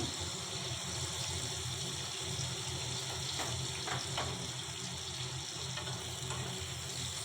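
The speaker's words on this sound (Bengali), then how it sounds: "এরপর আলুগুলো একটু নাড়িয়ে এদিক ওদিক করে লবণ আর হলুদগুলো মিশিয়ে দিলাম" Diced potatoes seasoned with salt and turmeric fry in a pan with a steady, even sizzle. A few faint scrapes of stirring come through near the middle, and nobody speaks.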